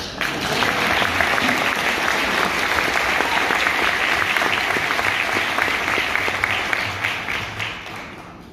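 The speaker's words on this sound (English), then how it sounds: "A little more applause would be good." Sustained applause from an audience at the United Nations SDG Digital event in New York City, dense steady clapping from a large crowd that tapers slightly at the end.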